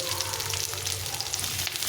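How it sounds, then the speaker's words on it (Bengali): Chopped garlic sizzles steadily in hot oil in a pan, a dense continuous frying hiss with faint stirring, close and fairly loud, with no voices. "রসুন কুচি দিয়ে দিলাম রসুনটা একটু ভাজা ভাজা হচ্ছে"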